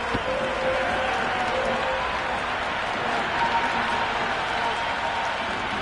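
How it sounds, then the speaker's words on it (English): Stadium crowd at an India versus South Africa T20 cricket match cheering and applauding after a big shot, a dense, steady roar of clapping and voices filling the whole clip without letup. "There's a buzz, a real buzz coming from the stands."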